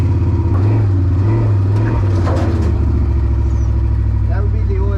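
A CFMOTO Zforce 800EX side-by-side with an aftermarket exhaust idles steadily and loudly up close, a throbbing low rumble running through the whole stretch, with people talking over it.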